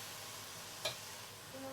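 Chinese sausage is being stir-fried in a pan, with a faint, soft sizzle and a light scrape of stirring. A single brief clink sounds midway.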